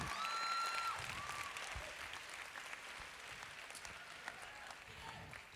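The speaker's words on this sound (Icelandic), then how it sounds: "klappið fyrir öllum sem eru búin að skipuleika þetta" An audience applauds at Vælið 2017, the Verzlunarskóli Íslands school singing contest, with steady, dense clapping that stays fairly constant and slightly fades over several seconds, and faint voices mixed in.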